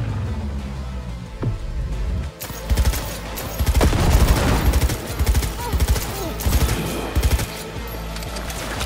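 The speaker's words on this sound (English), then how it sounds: "Yeah, I guess the shotgun is a pretty good backup" Gunfire from a shotgun in the video game Cyberpunk 2077, a rapid fusillade of loud blasts packed densely over a few seconds amid game noise, following a quieter stretch of background ambience.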